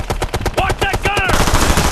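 Rapid machine gun bursts in the Ghost Recon Future Soldier video game, loud and close, sharp repeated shots running steadily through the moment with game chatter and sound effects around them.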